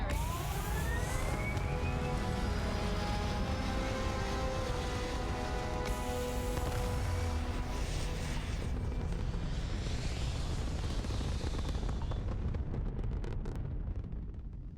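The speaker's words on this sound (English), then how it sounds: "All thrusters firing." Spaceship thrusters firing in Starfield make a loud, continuous roaring rumble with rising whining tones early on, sustained for many seconds before thinning out and fading near the end, no talking.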